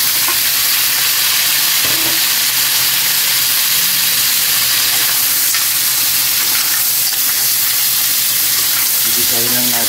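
Mussels and ginger sizzle steadily in a hot pan for a Filipino home-cooked dish, a loud continuous frying hiss with occasional stirring clinks and faint talk in the background.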